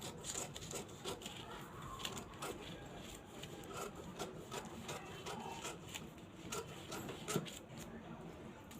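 Paper being smoothed out flat on a table before cutting a blouse sleeve pattern, with repeated rubbing and brushing strokes in a steady rhythm, close and soft, some faint speech beneath.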